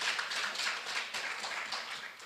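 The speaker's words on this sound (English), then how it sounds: "Let's clap for him properly." An audience applauds a speaker with a dense, steady patter of many hands, held at an even level for about two seconds, somewhat distant, with no talking over it.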